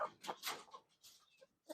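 Pet farm chickens cluck softly in a quick, uneven series of short bursts, faint and fairly close.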